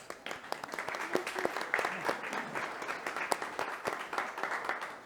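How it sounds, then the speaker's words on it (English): A showroom audience applauds its hosts at a luxury builder panel event, a steady wash of clapping from many hands that holds evenly for several seconds, with faint voices mixed in. "Can we give them a round of applause?"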